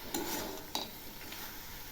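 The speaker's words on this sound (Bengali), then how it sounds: "এখন আবার একটু নেড়ে দিচ্ছি।" A spoon stirs bathua greens ghonto with fried lentil dumplings in a pan, giving a couple of soft scraping clinks over a low background sizzle. The sound is quiet and brief, with no talking.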